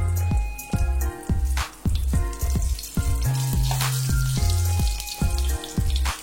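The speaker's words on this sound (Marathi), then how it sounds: "तर वांगी मी आता एक एक करून सर्व तेलामध्ये घालून" Brinjals fry in hot oil in a pan, the sizzling mixed with repeated clattering, close-up hits that come in an irregular rhythm throughout.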